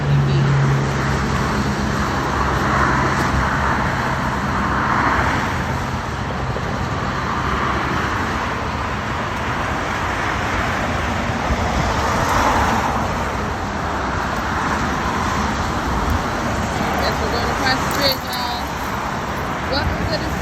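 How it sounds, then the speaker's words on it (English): City traffic rolls past on the roads as a continuous roar of cars and heavier vehicles, loud and near, with voices talking over the steady motor noise throughout. "Welcome to city traffic that we see every day."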